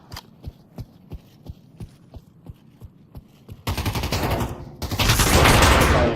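Gunfire in the VR shooter Pavlov during a competitive bomb-defusal match: a steady run of sharp, evenly spaced shots, followed by loud, dense bursts of rapid fire that swell into a sustained roar toward the end.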